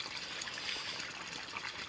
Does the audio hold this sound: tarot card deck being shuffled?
no